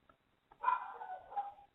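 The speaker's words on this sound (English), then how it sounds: "you hear my dogs there" Dogs barking somewhere in the room, a faint, brief yelp that rises once and trails off into a strained whine-like tone, with no talk over it.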